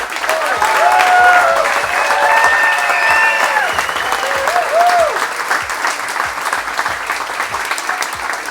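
An audience bursts into loud, sustained applause as a mother is called up to the stage, thick clapping that stays steady throughout, with shouts and whistles rising over it near the start.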